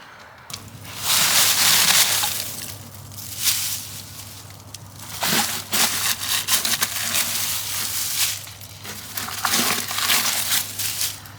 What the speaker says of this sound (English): Let's go and dig out this drain.